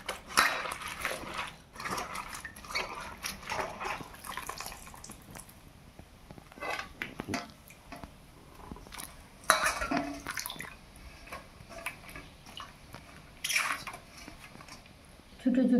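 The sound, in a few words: washing cut banana flower in water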